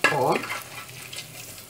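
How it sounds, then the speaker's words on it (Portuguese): Bacon frying in a pan while making farofa, a short burst of sizzling and stirring that starts loud and settles into a quieter steady crackle. "Vamos deixar esse bacon fritar um pouquinho."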